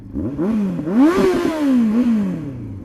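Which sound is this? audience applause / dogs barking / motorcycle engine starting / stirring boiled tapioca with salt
motorcycle engine starting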